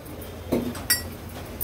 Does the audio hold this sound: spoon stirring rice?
yes